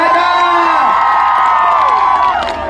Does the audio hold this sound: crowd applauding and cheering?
yes